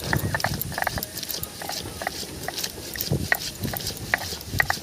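Ginger, garlic, cumin, coriander and green chillies being ground together into a paste for a bean-leaf dish, giving a close, continuous gritty rubbing and scraping with irregular clicks, no talking.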